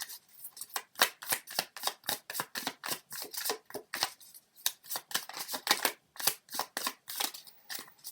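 A deck of oracle cards is shuffled by hand in a rapid, steady run of crisp riffling snaps that continues for several seconds, close and alone with no talk.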